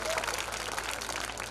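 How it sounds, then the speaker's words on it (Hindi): At a girls' school event, an audience breaks into a dense, steady burst of applause that fills the short moment, with a voice faintly mixed in. "इसलिए इनको तालियों से नवाजा जाए"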